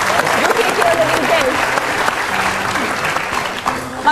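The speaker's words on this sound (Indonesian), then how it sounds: "tepuk tangan." Loud, steady applause from a studio audience on an Indonesian talk show, sustained and dense for the whole stretch, with faint voices mixed underneath.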